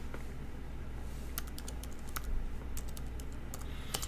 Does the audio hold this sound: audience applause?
no